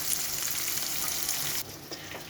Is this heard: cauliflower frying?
yes